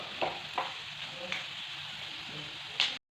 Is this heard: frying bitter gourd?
yes